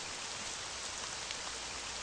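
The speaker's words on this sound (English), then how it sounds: "You know this rain won't stop, so no sense waiting around for it." Steady rain pours down in the Land of Dreams video game, a dense, even hiss of falling drops with no voices or other sounds.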